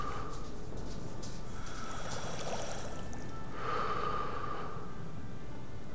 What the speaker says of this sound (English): You can hear that. That's the sound of the water.